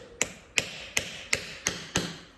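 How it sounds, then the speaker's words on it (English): Six evenly spaced sharp metallic taps ring out in a steady rhythm as screws are worked loose from a Massey tractor part, each strike close and crisp with a short decay. "Let's get these screws out"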